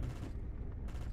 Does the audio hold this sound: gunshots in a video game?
yes